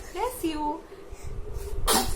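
A single sharp sneeze bursts out near the end, preceded by soft voices and breathing in a quiet room.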